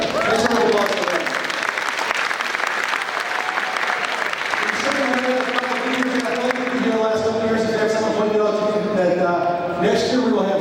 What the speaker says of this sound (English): Thanks for the applause for that